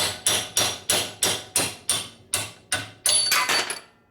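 Sharp hammer blows strike a metal part of a 1973 Harley-Davidson Shovelhead bobber about eleven times in a steady rhythm, each ringing clang decaying before the next, close and loud.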